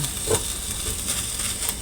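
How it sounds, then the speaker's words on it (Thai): Thai curry paste is dry-roasted in a wok for a pork belly curry with pea eggplants, a soft steady sizzle with light scraping strokes close by, no talking. "พริกแกงเจ๊ก็ เอามาคั่วกระทะก่อน"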